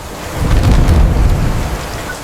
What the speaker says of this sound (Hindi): शांत हो जाओ, बारिश तो और भी तेज हो रही है।